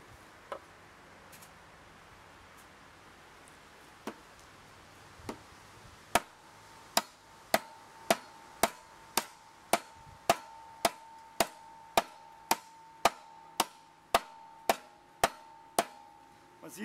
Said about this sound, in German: Versuchen wir das mal zu hacken.